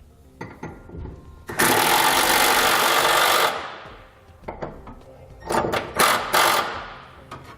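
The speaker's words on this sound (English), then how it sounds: "I'm going to come back with a 3/4 inch socket, and I'm going to tighten those nuts up" A power tool with a 3/4 inch socket tightening nuts while a B and W Companion underbed hitch kit is installed on a 2018 Chevrolet Silverado. It gives a loud two-second whirring burst, then shorter bursts, with clanks of metal between.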